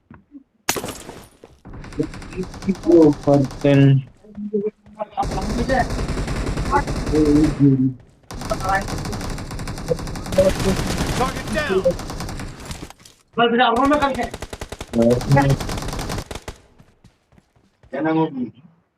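Video game gunfire in a team match, several bursts of rapid automatic shots in separate clusters, loud and close, with short silent gaps between them.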